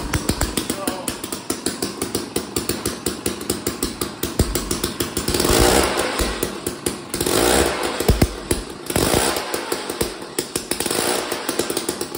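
The small two-stroke Tecumseh engine of a 20-plus-year-old Jiffy 31 ice auger, freshly carb-cleaned, runs rough and close, popping in rapid pulses and revving up in several bursts, with talk mixed in.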